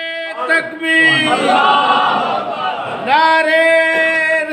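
A large crowd at a religious gathering roars a chanted slogan response in unison, loud and sustained over several seconds, with a lead voice calling before and after the massed reply.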